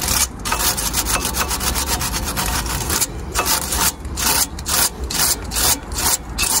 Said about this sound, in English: This is literally just going to go over it with a wire brush like this.